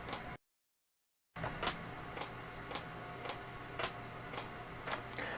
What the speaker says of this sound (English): To hear a metronome click track,